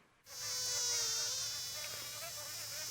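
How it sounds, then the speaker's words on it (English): A high-pitched, whining drone from mosquitoes swells in abruptly and holds steady and close, with slight wavering pitch as the insects hover. "That high-pitched buzzing around your ears from one or more pesky winged insects, followed by a painful blood-sucking bite."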